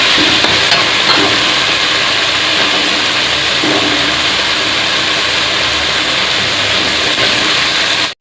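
Tomatoes cook down in a pan for chicken curry, giving a loud, steady sizzle and bubbling hiss that runs unbroken for several seconds, with occasional faint stirring scrapes, before cutting off abruptly.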